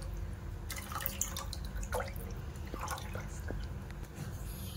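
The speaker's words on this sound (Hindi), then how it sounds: "थोड़ा सा पानी और डाल देती हूँ" Water is poured into a pan of egg curry gravy on the stove, giving faint drips, splashes and gurgles over a low steady background hum, with no talking.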